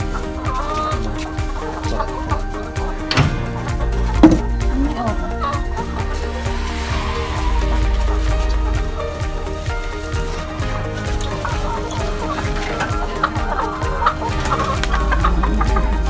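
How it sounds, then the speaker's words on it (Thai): Chickens clucking inside a chicken coop on a mixed farm, a continuous murmur of clucks and calls with a loud sharp knock near the start, someone talking over it. "อันนี้นะครับโรงเรือนไก่นะครับ มีไก่นะครับ"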